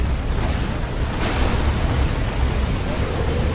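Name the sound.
rocket run explosions in video game Dawn of War 2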